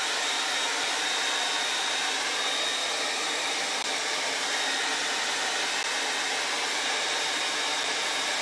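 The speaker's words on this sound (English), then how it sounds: "if you've got little pools of patina on here and you hit it with the dryer, it could push the liquid off" Hair dryer blowing over a bronze piece to dry liquid patina, a loud steady whoosh of fan and airflow held evenly and close throughout, alone with no talking.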